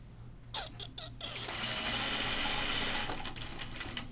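A sewing machine stitches a pocket seam on a caftan, a few short clicks and then a steady, close mechanical whirr running for several seconds.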